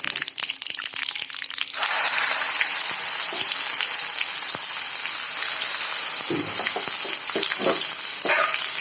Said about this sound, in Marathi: पूर्ण पेस्ट टाकायची चांगली भाजून घ्यायची